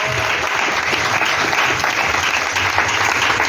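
A church congregation claps and cheers loudly in praise of the Lord Jesus, a dense sustained wall of applause close up, with no speech over it.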